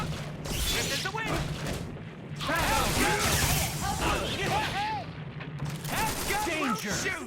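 Rapid bursts of gunfire and crashing impacts crackle continuously in the Ultimate Marvel vs Capcom 3 fighting game, a dense, busy barrage layered with chirpy effects. Voices are heard over it.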